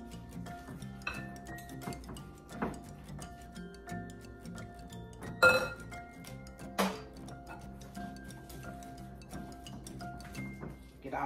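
Pecan pie filling with brown sugar stirred in a bowl, quiet rhythmic ticking and clinking of a utensil against the bowl with faint kitchen clatter, soft and close.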